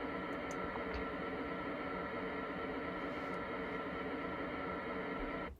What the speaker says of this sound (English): We'll start the pink noise and we'll hit the record button.